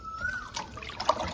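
Running water pours and trickles over cut pieces of tripe being rinsed and squeezed by hand, with small splashes and a brief whistling tone near the start, close and moderately quiet.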